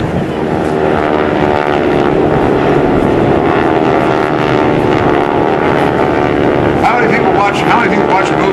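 GEICO Skytypers propeller planes peeling off at the 2004 NAS Oceana airshow, a loud, sustained droning buzz of several piston engines that swells and shifts in pitch, with voices now and then over it.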